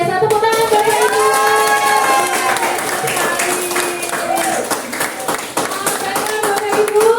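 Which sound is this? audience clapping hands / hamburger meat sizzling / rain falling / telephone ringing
audience clapping hands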